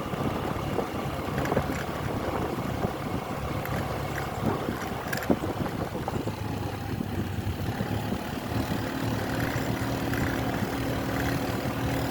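A longtail boat, a motorbike-style engine driving a long propeller shaft, drones steadily on the water off Koh Rong, with a continuous rumbling tone and wind noise that stay even throughout.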